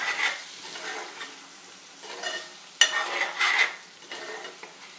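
Chicken liver fry with salt, chili, turmeric and masala is stirred in a hot pan. A steady sizzle runs underneath, broken by several scraping strokes and one sharper clank near the middle.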